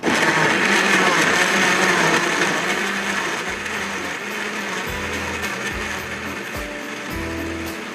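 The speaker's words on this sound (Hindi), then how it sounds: "ब्लेंडर लिया है, जिसके अंदर मैं इसको पीस लूँगी" A blender grinding tomatoes whirs loudly and steadily, its motor pitch dipping and rising as it grinds, with brief pauses and restarts toward the end.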